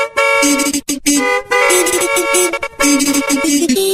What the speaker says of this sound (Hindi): गाड़ियां हॉर्न मारते रहती है